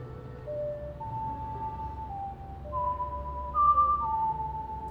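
The ancient royal lullaby from the video game Ocarina of Time, a slow whistled melody of sustained notes that rises and falls over a low hum, clear and moderately loud.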